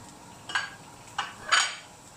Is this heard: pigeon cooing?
no